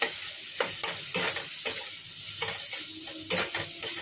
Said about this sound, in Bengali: একটু লাল কালো করে ভাজবো